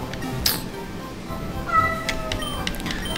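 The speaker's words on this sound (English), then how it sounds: "If you guys hear my cat crying," A cat lets out a couple of brief, faint meows against a quiet, hissy background.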